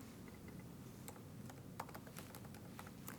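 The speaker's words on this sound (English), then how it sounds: "we're going to type in burned" Fast, light typing on a computer keyboard, a run of small close key clicks that speed up toward the end, quiet against a low background hum, with no talking.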